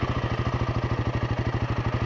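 A Royal Enfield Himalayan 450 single-cylinder motorcycle engine just after starting, settling into a quick, even thumping idle with a regular pulsing beat, fairly close and moderately loud.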